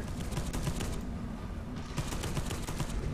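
Enemies firing on the player in Space Hulk: Deathwing, a continuous barrage of rapid gunfire with repeated sharp shots over a dense rumbling wash, steady and sustained throughout with no talking.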